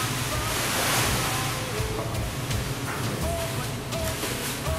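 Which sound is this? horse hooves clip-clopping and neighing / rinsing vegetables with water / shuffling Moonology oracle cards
rinsing vegetables with water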